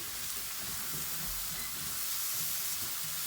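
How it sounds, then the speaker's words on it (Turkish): Steady, close sizzle of onions and chopped garlic frying in a hot pan for shakshuka, a continuous crackling hiss with no voices. "Soğanımızı kavurmaya başlıyoruz."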